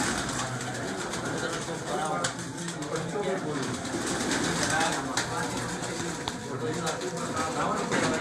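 A red netted Indian breed pigeon coos in a loft in Karachi, with soft repeated cooing beneath people talking nearby and some background clatter.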